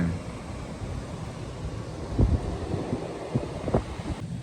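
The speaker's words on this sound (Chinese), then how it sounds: "转眼间狂风暴雨啊！" Strong wind gusts through a rainstorm in a seaside city in Fangcheng District, Guangxi, a loud, rough roar buffeting the microphone, with a few heavier thumps and surges near the end and no talking.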